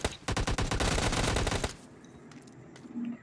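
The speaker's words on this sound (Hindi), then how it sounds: "तो हम इन्हें 2 गोलियां देते हैं और डैमेज कर देते हैं" A loud burst of rapid gunfire in a PUBG-style shooter with an M416 and Thompson rattles for about a second and a half, then stops, leaving quiet game ambience and faint clicks.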